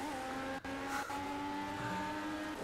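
Race car engines droning steadily in the racing video game Project Cars, with tonal engine harmonics and tire scrub as the car slides around, a brief dip near the start, loud and continuous throughout.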